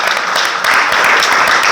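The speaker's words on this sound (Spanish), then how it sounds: "un aplauso para ella" A dense, steady wash of applause from a crowd at an ordinary council session, loud and continuous throughout, with no speech over it.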